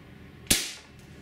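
A single sharp shot from a Benjamin HB22 .22 multi-pump pellet pistol, a loud close crack with a brief decaying tail and a faint click after, otherwise quiet.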